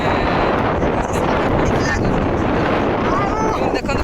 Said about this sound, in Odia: ଦେଖନ୍ତୁ ପବନ କେତେ ଜୋର ଅଛି